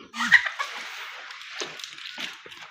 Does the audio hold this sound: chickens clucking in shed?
yes